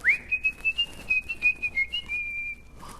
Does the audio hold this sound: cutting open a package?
no